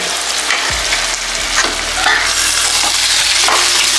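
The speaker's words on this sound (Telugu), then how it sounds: "చూసారా, బాగా ఎప్పటికప్పుడు మనం కలుపుకుంటూ ఉండాలి, లేదా ఇలాగ అడుగు అంటిపోద్ది" Biryani masala frying in a pot while being stirred: a steady close, loud sizzle with repeated scraping strokes of the spoon across the bottom, and no talking.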